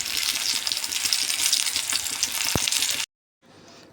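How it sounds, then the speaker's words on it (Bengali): Potatoes frying in a pan for a spiced cabbage dish, a steady close hiss of sizzling oil that runs for about three seconds, then cuts off abruptly before a fainter return. "আলুটা ভাজার সময় একটু চিনি দেবো।"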